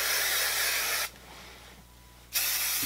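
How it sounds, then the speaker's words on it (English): A long hiss of Bedhead Hardhead hairspray from an aerosol can, about a second of steady spraying, pausing briefly, then a second burst starts close by. "put a boatload of hairspray in"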